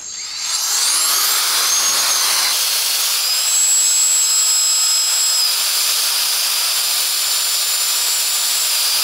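A Kica Jet Fan MAX compact blower runs on its own, spinning up within the first second into a loud, steady high-pitched jet-like whine and rush of air that holds for the rest of the clip.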